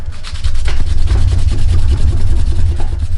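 A broadhead stropped on cardboard loaded with buffing compound, a close, continuous rough rubbing and scraping with repeated strokes over a low rumble, no speech.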